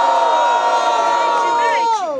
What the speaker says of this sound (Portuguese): quem gostou das rimas do Six faz muito barulho